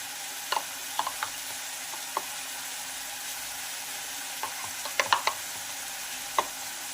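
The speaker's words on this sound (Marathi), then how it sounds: "हळदी पावडर हे छानपैकी आपल्याला फ्राय करून घ्यायचं आहे" Turmeric powder and salt frying in oil for a capsicum dish, a steady low hiss of sizzling with scattered sharp clicks and taps of a spoon against the pan.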